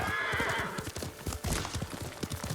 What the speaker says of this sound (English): Let's call the horse, who apparently comes from the water.